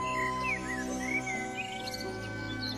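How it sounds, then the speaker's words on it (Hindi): Several birds chirp and tweet in overlapping calls, a busy cluster of small songbirds gathered at water, steady and fairly full over a faint background hum. "बहुत से पंछी पानी पीने आए।"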